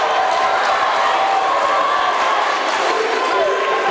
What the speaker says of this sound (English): that'll get a loud cheer out of the Pacer crowd as Gaylord goes around a pick from Bryant.